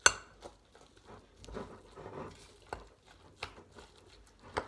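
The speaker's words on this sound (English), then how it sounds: "I'm going to add 1 egg to the mix and continue to mix" A spoon or utensil works an egg into minced meat dumpling filling in a bowl, giving soft wet squelches and occasional sharp clinks against the dish, fairly quiet and irregular.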